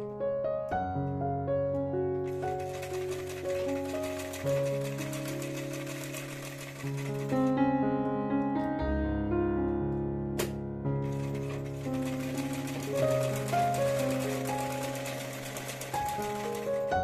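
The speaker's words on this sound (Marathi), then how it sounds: "आता याच्यावर सेम जशी शिलाई मारली आहे त्याच्यावर अजून एक शिलाई मारून घ्यायची" A sewing machine stitches a seam on a one-year girl's baby frock, running in long continuous stretches with a brief pause partway through, over steady sustained tones and with no voices.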